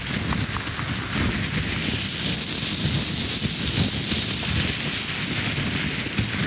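A plastic bag shaken and rustled to imitate wind, a steady broadband whooshing crackle that holds evenly and close for the whole stretch, with no talk.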